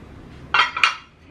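Two quick clinks as ceramic plates are handled and knocked together, close and bright, in a quiet room.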